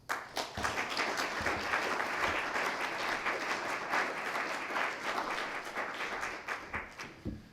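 Audience applause welcoming Dr. Ryan Topping at a Catholic education session, a sustained wash of many hands clapping that swells and then tapers into scattered final claps.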